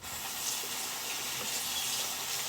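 Tap water runs steadily into a sink as dentures are rinsed beneath it, a continuous even splashing rush that stays close and constant throughout, with no voices.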